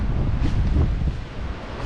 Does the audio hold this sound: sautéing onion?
no